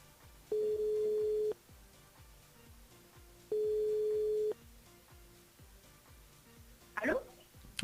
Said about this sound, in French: On appelle Chloé du côté du sud, c'est parti.